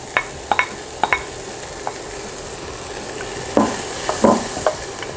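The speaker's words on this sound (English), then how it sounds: "Now I'm gonna saute my onions." Onions sauté in oil in a skillet for pork chile verde, giving a steady soft sizzle with a few sharp utensil clicks and scrapes against the pan, close and without talk.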